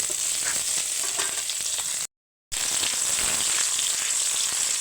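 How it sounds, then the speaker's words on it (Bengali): Onions frying in a pan until crisp and browned, a steady close sizzle with scattered crackles, cutting out briefly midway before resuming at the same level. "পেঁয়াজটা বেরোস্তা করে নিচ্ছে"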